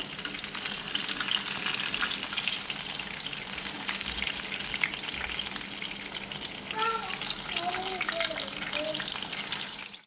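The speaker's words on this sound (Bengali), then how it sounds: "আমি এগুলোকে উল্টিয়ে পাল্টে একটু লাল লাল করে ভেজে নিয়েছি" Chicken chaap pieces fry in hot oil until reddened, a steady bubbling sizzle throughout with faint voices briefly audible underneath toward the end.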